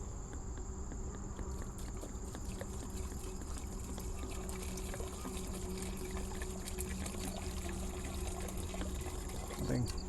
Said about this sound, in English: Alright, so I'm going to pour some water inside this bag.